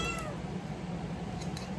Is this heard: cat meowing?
yes